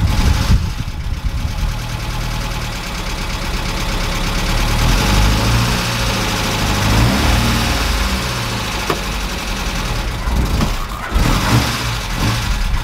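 A 1969 Ford Capri engine running in third gear while the handbrake is tested, a loud, close, steady drone with slight rises in revs and a low throbbing hum throughout.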